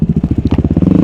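An enduro motorcycle climbing a hill, its single engine thumping in a fast, even, loud and close pulse.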